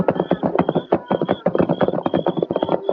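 Old-time radio sound effect of a horse at full gallop, close and loud rapid hoofbeats in a fast, steady, uneven clip-clop rhythm running throughout with no talking.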